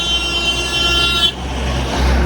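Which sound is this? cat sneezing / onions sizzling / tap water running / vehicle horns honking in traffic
vehicle horns honking in traffic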